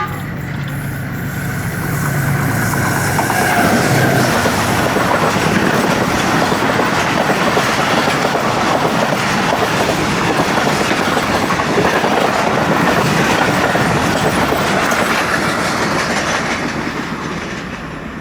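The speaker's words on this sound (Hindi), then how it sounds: "एक 104 पे एंटर हुई और 106 किलोमीटर पर आवर पे रन पठानी स्टेशन क्रॉस किया 10 डाउन अल्लामा इकबाल एक्सप्रेस ने।" The 10 Down Allama Iqbal Express passes through Ranpethani railway station at about 106 km/h. A loud, sustained rush of wheels and carriages with a steady clickety-clack is heard close by, swelling in after a quiet start and holding for most of the clip.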